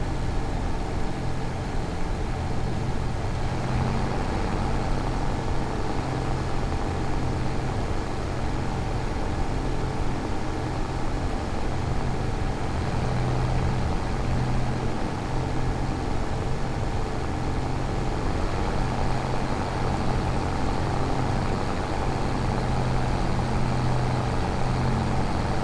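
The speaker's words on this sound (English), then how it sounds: "loud tractor, this one. You would have thought inside the tractor would have been quieter" A tractor engine in a PC farming game on the Ebony Island map drones loudly and steadily from inside the cab, a constant low, heavy hum that stays unchanged throughout with no voices.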